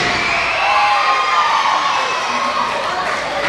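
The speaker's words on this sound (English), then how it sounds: "This crowd is definitely behind Lee Valiant right now." A crowd at a Mid-Atlantic independent wrestling show cheers and shouts loudly and without a break, a dense wash of voices and whoops filling the whole stretch.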